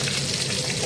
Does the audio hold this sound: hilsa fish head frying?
yes